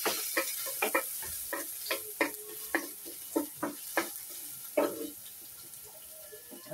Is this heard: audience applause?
no